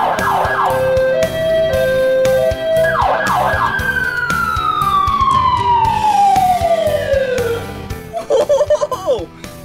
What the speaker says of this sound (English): Check this out down here. The siren.